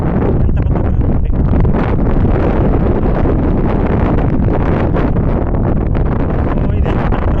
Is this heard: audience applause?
no